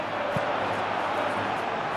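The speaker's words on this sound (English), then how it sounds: "it's applause all around us here" A stadium crowd in a PES football video game making a steady, broad wash of applause and murmur that stays at an even level throughout, with a brief low thump early on.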